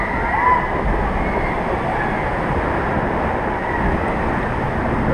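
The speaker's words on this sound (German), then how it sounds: "Der wird doch noch mit Wasser gespritzt." Continuous rushing splash of spraying water with wind buffeting on the Kållerado river rapids ride at Liseberg, loud and close, steady throughout.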